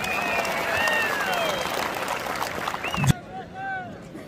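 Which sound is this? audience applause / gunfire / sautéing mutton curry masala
audience applause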